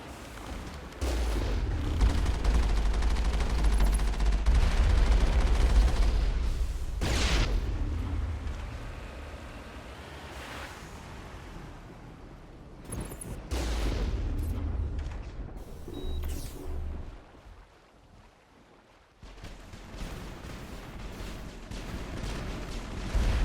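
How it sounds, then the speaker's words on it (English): Enemy artillery gun firing in Mass Effect, heavy booming blasts and rumbling explosions over a dense low roar, loud at first, fading and swelling again with a few sharp impacts over the span. "We must find a way to disable their artillery."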